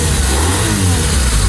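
A BMW R1200RT twin-cam motorcycle engine revs close by, a loud continuous rumbling drone that swells slightly through the short burst, with no voices.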